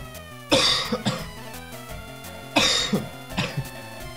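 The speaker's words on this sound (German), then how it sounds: "Dieser Husten, ey." Harsh coughing in two bursts about two seconds apart, each a loud hack followed by a few smaller coughs, over quiet background game music.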